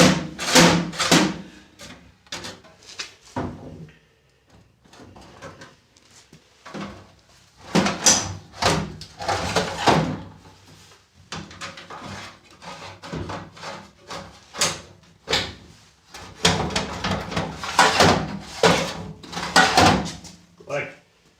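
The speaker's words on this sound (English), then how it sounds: "Put some drawers in here." Metal drawers slide and clatter into an old Sears Craftsman 12-drawer top tool box, with repeated bangs, scrapes and knocks in irregular bursts, close and loud, while people talk intermittently.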